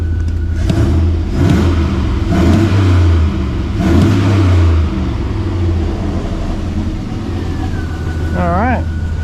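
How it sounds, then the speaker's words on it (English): An LS-swapped 1986 Chevrolet C20 Suburban engine idles loudly nearby and is revved in a few rising and falling pulls before settling back to a steady idle, with a brief high squeal at the end. "I'll rev her up for a second."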